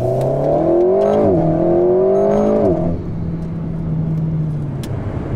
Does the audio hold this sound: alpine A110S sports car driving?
yes